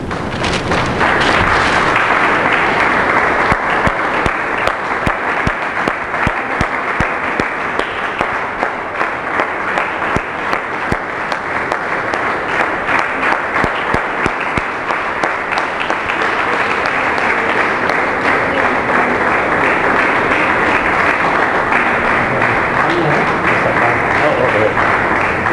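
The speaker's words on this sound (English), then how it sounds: "clap, come on." An audience at a religious talk on celebrating God's birthday breaks into sustained applause, a dense, loud wash of many hands clapping that continues steadily for the whole stretch, with some voices mixed in.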